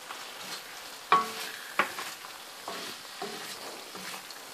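Raisins added to pulao masala sizzle softly in hot oil while a spoon stirs and scrapes the pan, with two sharp clacks early on and quieter stirring strokes after.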